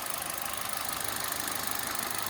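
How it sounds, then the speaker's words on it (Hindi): Used car engine running steadily at a low idle-like hum while being checked for vibration, a continuous even drone with no voices over it. "एक्सेलरेट भी करके देखना है कि इंजन में वाइब्रेशन ज़्यादा तो नहीं है"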